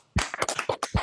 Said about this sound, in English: I'd like a quick round of applause if we could have it for Fouad, Norbert, and Andi.